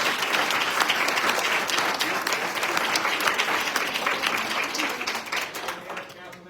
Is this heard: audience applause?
yes